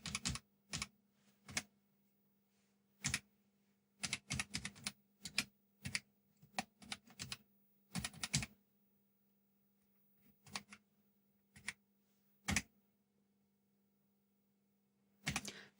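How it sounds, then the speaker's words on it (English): Sparse, quiet clicks of ZX Spectrum +2 computer keys being pressed in short irregular bursts over a low steady hum. "So let's see whether it'll respond to keyboard presses."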